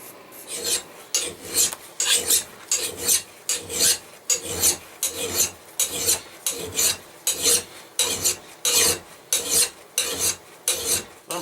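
A hand file rasps in regular back-and-forth strokes across the cheek of an old axe head, about a dozen loud, even scraping passes close to the microphone.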